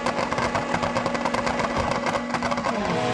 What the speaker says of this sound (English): Hear the revs come up